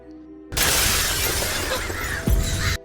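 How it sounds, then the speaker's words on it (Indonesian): Glass bursts and shatters loudly as a crow forces its way through a house window, a sudden crash followed by a sustained spray of breaking shards and a sharp thud near the end. "kelihatannya si gagak tak mau berhenti dan maksa masuk menerobos kaca"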